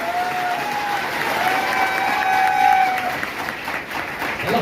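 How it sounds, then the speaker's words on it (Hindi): Audience clapping at a live motivational training session in Varanasi, moderately loud and continuous throughout, swelling slightly in the middle before easing off, with crowd noise mixed in. "एक बार जोरदार तालियां मैडम के लिए यार।"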